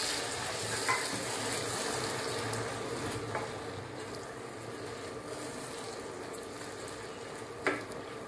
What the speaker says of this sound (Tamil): இப்போ வெங்காயம் இப்போ தக்காளி சேர்த்துக்கலாம்.